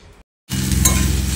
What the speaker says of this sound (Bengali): তারপর ভেন্ডিটাকে একটু লালচে করে ভেজে নিতে হবে।